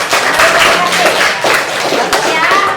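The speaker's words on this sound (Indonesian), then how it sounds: "Jadi tepuk tangan dulu, Nak." A class of students claps together in a classroom, a steady burst of close, lively applause with voices chattering underneath.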